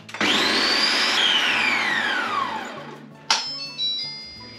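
Food processor running on turbo to blend guacamole with red onion: a loud whirring motor that starts abruptly, holds steady, then winds down in pitch, followed by a couple of short knocks and bursts near the end.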